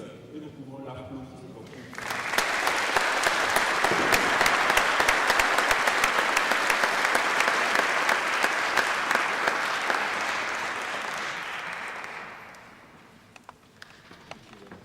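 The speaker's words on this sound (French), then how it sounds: "nous pouvons l'applaudir." A church congregation applauds at a confirmation and baptism service, a dense burst of clapping that rises sharply after a quiet start, holds loud and steady for about ten seconds, then fades out with a few scattered claps.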